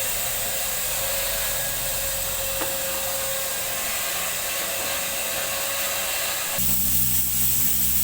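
A vacuum cleaner runs steadily while cleaning out a car at a car care shop, giving a loud continuous whine with a deeper rumble joining near the end and no one talking.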